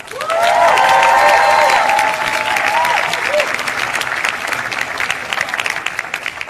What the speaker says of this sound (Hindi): इस वीडियो से आती आवाजें, तालियों की गड़गड़ाहट को गौर से पहले सुनिए